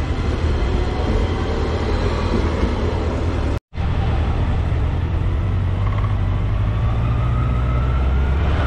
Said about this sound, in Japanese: 富山ライトレールの線路があり、ニュートラム電車が走ってきました